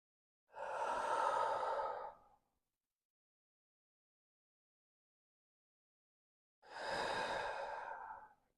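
Two slow, deep breaths during a hatha yoga practice, each a long audible exhale of about two seconds, separated by quiet, close to the microphone.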